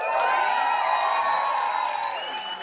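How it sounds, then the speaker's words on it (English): Audience at the African Jazz Village jazz club in the Ghion Hotel, Addis Ababa, cheering and whooping loudly as a crowd, with a steady sustained roar and scattered clapping throughout. "Ladies and gentlemen of the African Jazz Village at the Ghion Hotel in Addis, cheer if you think it is."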